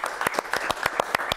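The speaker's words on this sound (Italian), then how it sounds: "E con l'applauso degli organizzatori delle club," Club organisers applauding on a local Italian football TV show, a short burst of fairly close clapping with distinct individual claps in an uneven rhythm.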